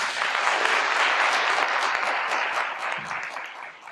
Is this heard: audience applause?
yes